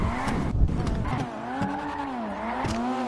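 Kawasaki Z-1000 motorcycle engine revving in GTA roleplay gameplay, a loud, continuous droning whine that rises and falls in pitch, heard alone and up close.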